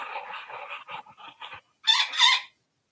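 A pet bird calls loudly in a few harsh, raspy bursts, pausing briefly before two stronger squawks close by.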